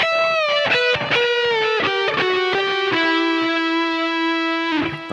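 Distorted electric guitar plays the next section of a riff, a quick run of picked notes descending into a long, held, bent note, loud and solo with no voices.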